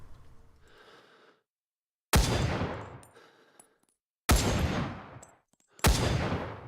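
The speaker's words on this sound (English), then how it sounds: "That's a pretty hard-hitting rifle." Three loud, sharp rifle shots from a Vietnamese weapon in Rising Storm 2: Vietnam, spaced a couple of seconds apart, each ringing out with a long decaying echo tail after faint muffled noise at the start.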